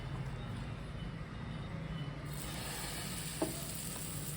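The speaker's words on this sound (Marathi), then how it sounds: "गॅस कमी केलेला आहे आणि आता आपण आमलेट टाकूया" Tomato omelette batter hits a hot pan with the gas turned low. It makes a soft, steady sizzle that brightens partway through, with a single small clink near the end.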